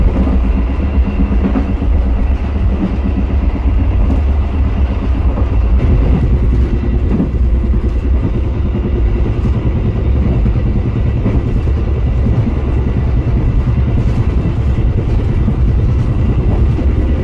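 Airlangga passenger train running on rails, a loud, continuous low rumble of wheels and carriages rolling steadily throughout with no voices.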